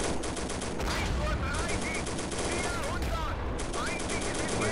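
Machine gun fire from a Pz.38 light tank in Steel Fury Kharkov 1942 while clearing village defenses: rapid, sustained rattling bursts with short pauses, loud and close over battle ambience.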